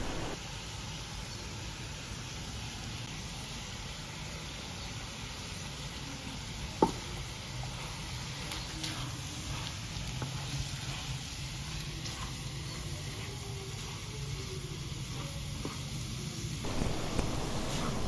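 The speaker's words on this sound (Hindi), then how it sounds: "अच्छी तरह इसको भूनते जाएं।" Red chili, salt, turmeric, coarse chili flakes and cumin frying in a pan, giving a steady, even sizzle throughout with a single sharp knock partway through and slight stirring scrapes near the end.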